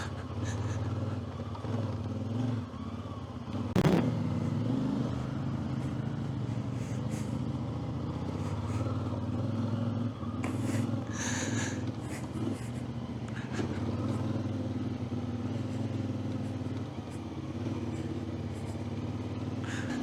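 A CFmoto 450MT adventure motorcycle rides off-road along a boggy, difficult trail, its engine a steady close drone with a brief knock early on, while a rider talks faintly over it.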